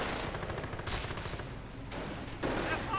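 Gunfire rattles in a WWII strategy video game, with repeated bursts of rifle and machine-gun shots layered over a dense, constant battle din of moderate loudness.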